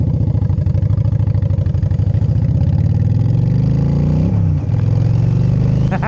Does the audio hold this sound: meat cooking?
no